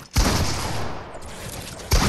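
Heavy gunfire in the video game Fortnite, a dense, loud roar of shots that starts abruptly, runs for nearly two seconds, and then cuts back in at the end.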